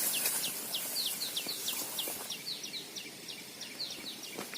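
Bar-winged prinias call near a rice field, giving repeated sharp, high chirps in quick bursts throughout, with faint insect buzz in the background.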